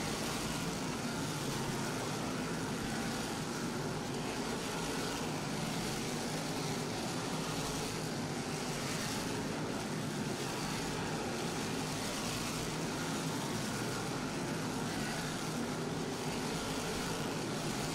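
NASCAR Whelen Modified race cars circle Riverhead Raceway in a steady, unbroken engine roar that stays broad and even throughout with no distinct pass-bys, heard from a distance with no voices.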